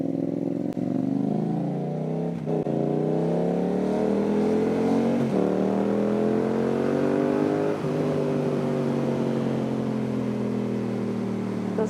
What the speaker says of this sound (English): Akra exhaust on this bike